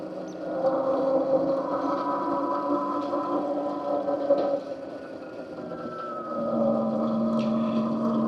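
A Heybike Villain electric dirt bike ridden off-road, giving a steady motor whine with wind rush that holds close and continuous, then swells slightly as it pushes on.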